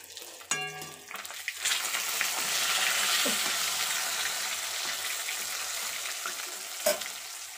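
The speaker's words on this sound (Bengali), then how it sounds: "দেখি এদিকে মাছটা ভাজছে কি হলো।" Fish fries in a pan with a steady, close sizzle and crackle, a brief clink near the start and another near the end, no voices.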